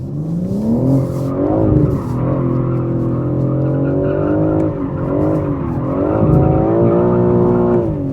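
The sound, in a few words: BMW M4 Competition coupe driving hard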